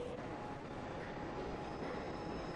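A train rolls past a station platform with a steady rumbling roar and rattling wheels, continuous and fairly close, with no talk over it.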